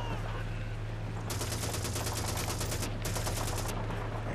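Call of Duty 2 gunfire in a loud, steady war soundscape, with rapid bursts of automatic weapon fire coming in two long runs separated by a brief gap.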